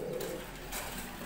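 Teddy breeder pigeons coo softly in a short burst, faint and somewhat distant against a low background hum.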